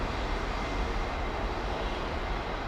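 An Airbus A319 airliner with International Aero Engines V2500 engines departs London Heathrow, a loud, steady broadband engine roar with no pause.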